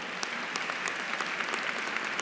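Steady audience clapping at a graduation address, a dense patter of many hands at moderate distance, brief and without voices over it.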